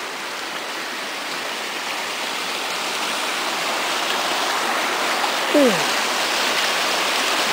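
A stream flows steadily through woods at a camping area, a constant broad rushing wash of water close by, with a brief whistle-like chirp partway through.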